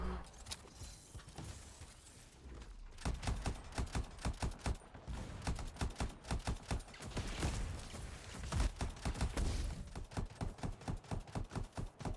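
Rapid bursts of gunfire in the video game Anthem, dense and loud, with a rattling automatic rhythm that runs through most of the stretch after a quieter opening.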